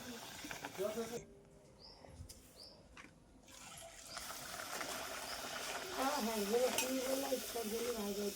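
Spinach puris deep-fry in hot oil with a continuous bubbling sizzle that swells louder toward the end, while someone talks over the frying in the first second and later in the clip.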